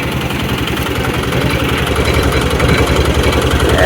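Sugarcane juice machine powered by an auto-rickshaw engine, a loud, close, continuous rhythmic chugging and throbbing that stays steady throughout with no talk over it.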